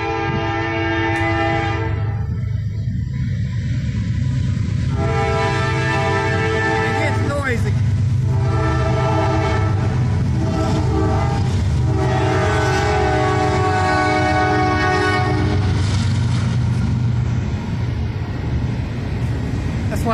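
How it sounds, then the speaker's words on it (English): A train rumbles past close by while its horn sounds in several long, loud blasts, the heavy rolling noise continuing throughout. "Here comes a train."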